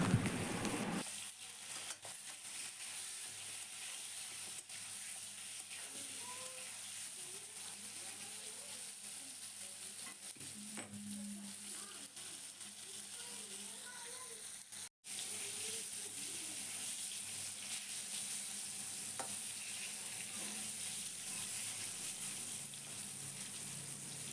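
Pointed gourd (potol) pieces frying in hot oil until reddish for a rui fish curry with potatoes, giving a steady, continuous sizzle that carries on evenly throughout, with a brief dropout midway.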